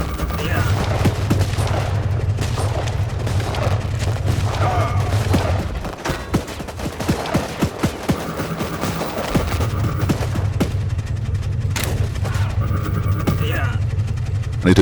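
Rapid machine-gun bursts and explosive booms from the WarPips strategy game fill the whole stretch loudly, with a short lull midway before the steady gunfire rumble resumes, and a voice talks over the battle.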